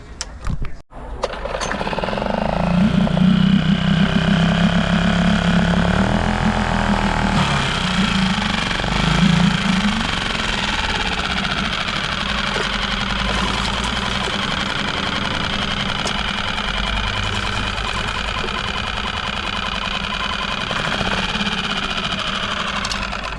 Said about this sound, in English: the engine's running too fast to idle